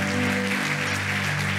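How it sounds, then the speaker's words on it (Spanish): A church congregation keeps up loud, sustained applause in the sanctuary, dense clapping over a steady low hum from the sound system. "Vamos a seguir aplaudiendo"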